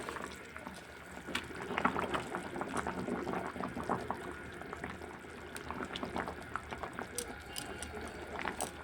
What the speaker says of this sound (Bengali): এখন আমি ভেজে রাখা মাছগুলো দিয়ে দেবো